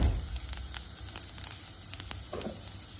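Cumin seeds sizzle in a hot pan while roasting for a chaat recipe, giving a steady soft crackle with scattered sharp pops and light stirring scrapes up close, no one speaking.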